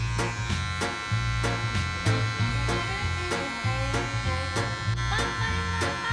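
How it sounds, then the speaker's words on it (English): A Wahl cordless Magic Clip hair clipper runs with its taper lever fully open, giving a steady close electric buzz broken by regular short clicks as it cuts. "What I'm going to start off with though is just my cordless magic clip with the taper lever all the way open."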